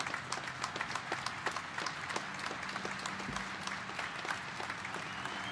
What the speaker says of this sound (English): A round of applause for Sergeant Meyer.